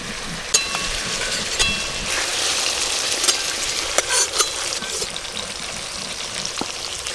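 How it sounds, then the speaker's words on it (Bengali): Potatoes fry in hot oil in a pan for a Bengali rui fish curry. A steady, close sizzle runs throughout, broken by occasional clicks and light scrapes from a utensil. "আলুগুলো আরেকটু ভাজতে হবে।"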